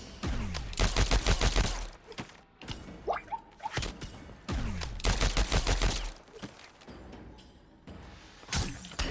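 Rapid bursts of automatic gunfire from Striker's Rapid Fire special move in Mortal Kombat 1, loud volleys of shots repeating in several bursts with impact thuds between them, no talking.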